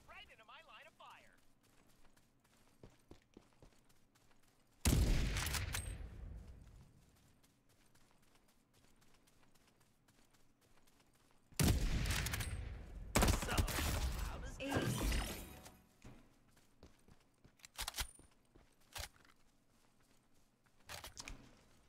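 Video game gunfire crackles in loud sharp bursts, each lasting a second or more, separated by quiet stretches, with a final short volley near the end and faint game voices in between.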